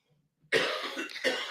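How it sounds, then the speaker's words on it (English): A single close, forceful cough from a podcast host into a microphone, bursting out after near silence, with a second smaller hack a moment later. "And now I have to cough."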